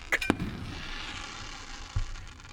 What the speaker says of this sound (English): Here comes a big firework.